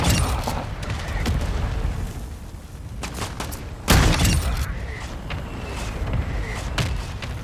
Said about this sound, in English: mortar strike coming in.